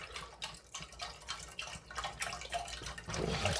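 Chicken stock pours from a carton in a quiet, gurgling stream with uneven glugs, close by and faint, brightening toward the end.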